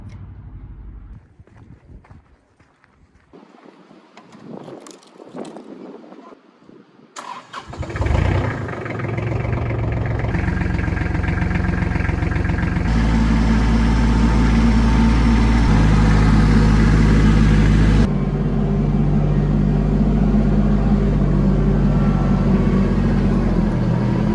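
A large diesel engine cranks and catches around the seven-second mark, then settles into a loud, steady idle that runs to the end, with shifts in its rumble.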